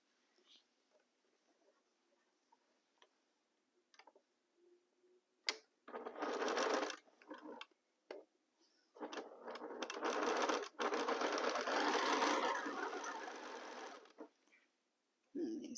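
A sewing machine stitches nested seams in short close bursts, a few brief runs and then a longer steady whir, with quiet handling noises and soft speech between them.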